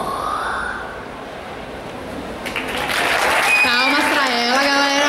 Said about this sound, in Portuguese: Palmas pra ela, galera.